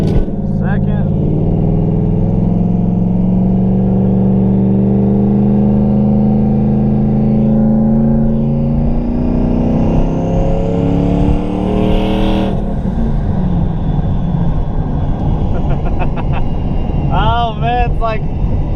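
A Ford Mustang with a TH400 automatic transmission pulls away on a street under light throttle, its engine droning loud and close inside the car as the pitch rises and shifts, with a person talking over it.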